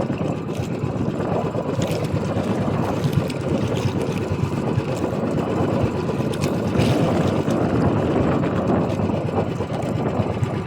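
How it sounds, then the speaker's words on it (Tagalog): A steady droning boat engine hums on and on over water, with wind rushing across the microphone and no talking. "Tapos may bangka pa dito guys."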